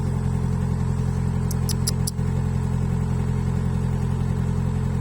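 A truck engine runs hot with a steady, loud low drone that holds without a break, plus a few faint high clicks partway through.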